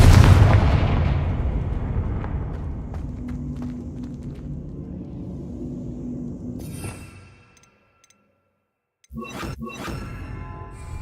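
In Hogwarts Legacy, a Confringo blasting spell sets off a heavy, booming explosion with a long rumbling decay. It goes quiet, then a pair of sharp game impacts follow.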